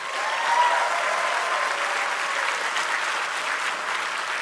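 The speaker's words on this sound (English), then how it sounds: "Give them a round of applause." Steady applause from a sizable audience at a PAX East 2014 presentation, clapping continuously and evenly throughout without a break.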